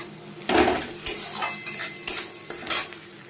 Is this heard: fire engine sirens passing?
no